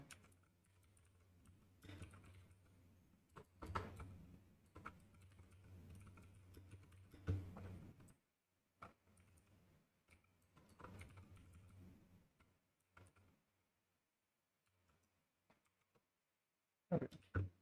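Bursts of rapid keystroke clicks on a computer keyboard, fairly close and quiet, coming in uneven runs separated by short pauses, with a few isolated louder taps near the end.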